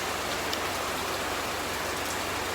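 Steady rain falling on a village road surface, a dense even hiss that stays loud and constant throughout, with no voices.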